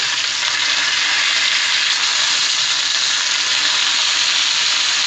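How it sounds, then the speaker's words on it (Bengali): Tilapia fish sizzles and crackles steadily in hot oil, a loud, dense hiss close up with no talking. "চার থেকে পাঁচ মিনিট ধরে আমি মাছটা ভালো করে এই পাশটা ভেজে নিয়েছি"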